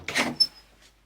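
An indoor room door opens as a father looks in, a single short scrape and creak, close and fairly clear, then fading into quiet.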